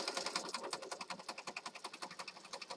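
Sewing machine stitching across a handmade pocket journal, a steady rapid run of even needle strokes, close and fairly quiet, with no talking.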